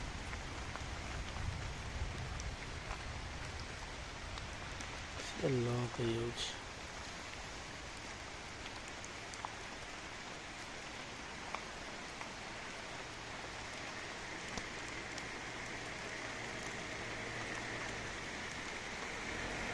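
Steady rainfall hisses through Satkosia forest, soft and continuous, with a brief rising chirp or call near the middle.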